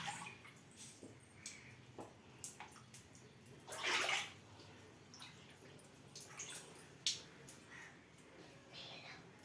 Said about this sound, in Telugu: వంటగది అయితే కడిగేసుకుంటున్నా.